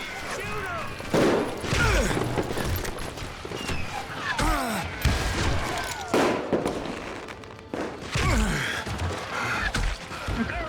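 Rapid bursts of gunfire from the Call of Juarez video game, loud and close, repeating in clustered volleys with sharp cracks and whistling ricochet-like sweeps throughout.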